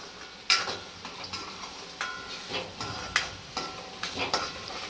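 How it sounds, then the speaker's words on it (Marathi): A spatula scrapes and knocks against a pan while dry mutton chaap is tossed with dry spices, producing a series of distinct clattering strokes over a soft background sizzle. "चांगलं परतून घ्यायचंय एक मस्त असं हलवून घ्यायचं एकजीव करून पहा"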